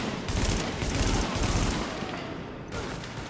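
Dense, sustained enemy gunfire in Tom Clancy's The Division, a rapid, loud fusillade of automatic weapons that continues without a break.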